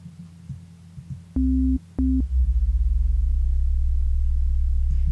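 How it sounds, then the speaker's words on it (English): A low, pure synthesizer sine wave bass tone for a dubstep bassline sounds in two short bursts, then holds steadily with a slight pulsing wobble, alone without talking. "So let's just go to a sine wave here."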